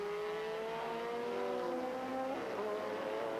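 Race cars lapping the Phoenix track during a 2003 Rolex Sports Car Series race, engines whining steadily at a distance with pitch sweeping as cars shift and pass, fairly faint throughout.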